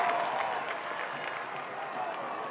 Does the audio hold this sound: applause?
yes